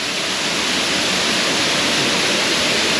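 Sitatoton waterfall in the forest of Khok Si Suphan district, Sakon Nakhon, pours with a loud, steady broadband roar of rushing water that fills the scene without a break.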